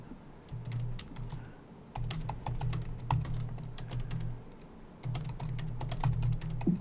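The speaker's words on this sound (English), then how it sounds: "I'm typing in an answer to Nia Rendele here." Rapid bursts of typing on a computer keyboard, close and fairly quiet, with fast irregular key clicks stopping and starting in a few runs.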